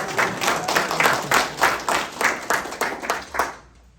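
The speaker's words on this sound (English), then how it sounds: "Give Charlie a round of applause." Audience at a magic show applauds with steady, rhythmic clapping that pulses in even beats, fairly close and lively, then fades out quickly near the end, leaving quiet.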